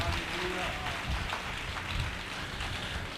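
Dense, steady applause from a church conference audience fills the hall, a continuous rain-like patter of many hands clapping with a faint voice mixed in underneath.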